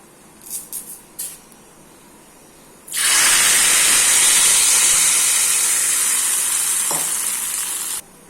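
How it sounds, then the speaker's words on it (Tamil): Curry leaves dropped into hot oil for tempering burst into a loud, close, sustained sizzle and hiss that holds for about five seconds before cutting off. A few soft clinks come just before, and no one speaks. "கருவேப்பிலை இது கொஞ்சம் நல்லா பொரியட்டும்"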